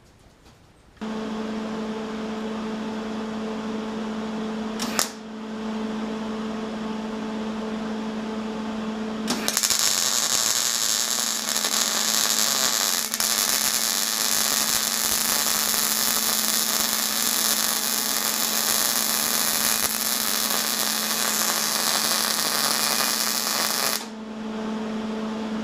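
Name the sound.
electric welder running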